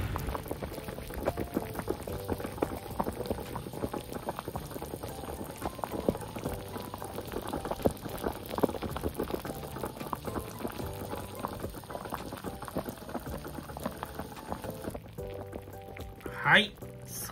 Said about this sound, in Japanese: そろそろいい感じに煮えてきたね